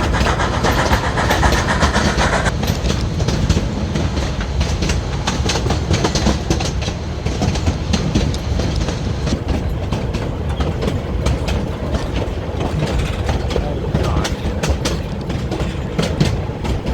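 A train on the Cumbres and Toltec Scenic Railroad rolls past on a hillside curve, loud and continuous, with rumbling wheels and rhythmic clacking throughout.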